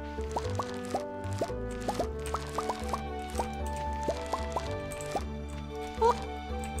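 Watering crops in the video game Stardew Valley: a quick series of bright plopping water drips, repeated in uneven bursts over steady game music.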